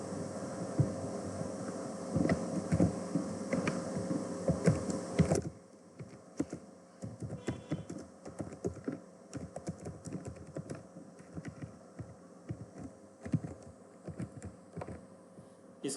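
Keys clack on a computer keyboard during accounting software data entry, a steady run of light taps over a hum for the first five seconds, then sparser, quieter keystrokes continuing to the end.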